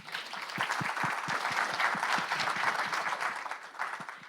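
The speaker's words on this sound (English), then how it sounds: "let's give them a round of applause" An audience gives a sustained round of applause, dense and steady clapping from many hands filling the whole stretch before easing slightly at the end.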